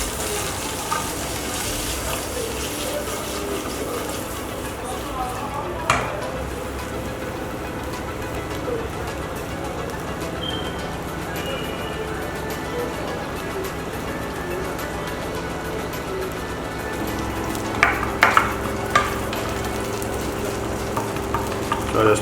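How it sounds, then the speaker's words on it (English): Peppered snail being stir-fried in a pan, a steady soft sizzle with scraping and stirring noises and a couple of louder clatters, with a voice speaking briefly. "I just stir fry that a bit"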